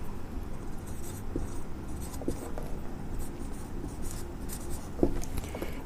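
Pen scratches across paper in a steady, close scribble while a triangle's angle is written down, with a few sharper taps along the way.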